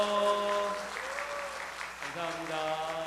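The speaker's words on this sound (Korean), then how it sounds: "박수 주세요." A congregation at a Sunday church service claps together, a steady wash of applause under an amplified voice speaking over the top for the whole stretch.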